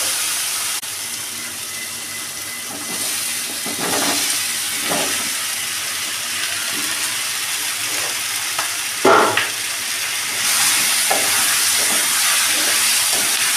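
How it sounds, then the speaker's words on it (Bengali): Potatoes and snakehead fish fry in spice paste for a kalia, giving a steady sizzle and hiss with a few louder bursts of spatter and stirring scrapes throughout. "এবার আমি আলু এবং মাছগুলো দিয়ে কষতে থাকবো"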